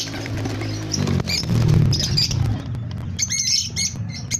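African lovebirds (opaline and albino) in a cage chirp in short high bursts over shuffling and fluttering noises, with low rustling throughout.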